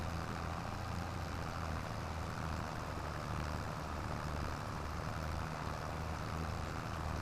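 A loud, noisy tractor engine in Farming Simulator 25 drones steadily at a constant pitch throughout, a continuous low rumble with no breaks and no talking.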